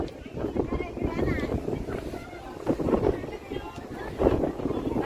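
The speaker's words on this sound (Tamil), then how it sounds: "மேலே ஏற ஏற காற்று அள்ளுது." Strong wind gusts buffet the microphone while climbing steps at the Vivekananda Rock Memorial in Kanniyakumari, a loud, uneven roar that swells and surges, with people speaking over it.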